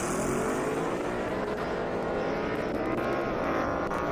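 A Mustang GT and a Supra launch side by side at an airstrip drag race, engines screaming and rising in pitch together, loud and sustained across the few seconds.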